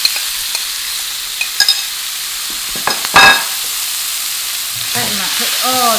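Prawns dropped into a very hot pan with a dash of oil, scattered clinks and a scraping stir followed by a rising sizzle, with a faint voice near the end.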